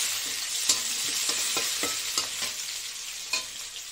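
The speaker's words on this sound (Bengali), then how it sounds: "পেঁয়াজটা একটু ভাজা ভাজা হোক।" Onion fries in oil in a pan, a soft, close sizzle broken by repeated scraping clicks of a spatula stirring at an uneven rhythm.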